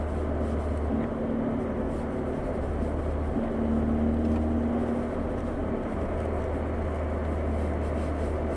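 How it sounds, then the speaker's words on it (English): A 2022 Hyundai Elantra N with a DCT gearbox, heard from inside while driving, gives a steady low exhaust drone with a soft, rumbling burble running under constant road noise. "Nice burbles from the exhaust."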